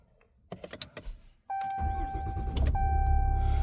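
A 2020 Ram 2500 with the 6.7 diesel starts by push button: a few clicks and cabin sounds, a chime tone, then the engine cranks and catches into a loud, steady diesel idle, close up.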